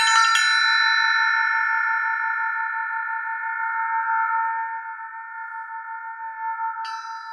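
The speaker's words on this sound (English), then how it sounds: "I don't know why this is called an elephant bell" An elephant bell struck once near the start, its bright strike giving way to long, steady ringing overtones that hum on and slowly fade with a faint pulse, joined by a light metallic tap near the end.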